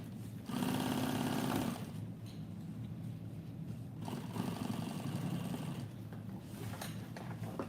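A sewing machine stitches fabric with a loud, steady mechanical whir that runs through the whole clip, peaking early and continuing at an even level.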